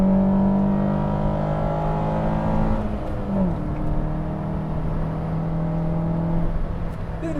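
Fiat Palio S10 engine fitted with an aftermarket air filter revving, a steady close engine drone that shifts pitch sharply midway before holding a new note, with no talking.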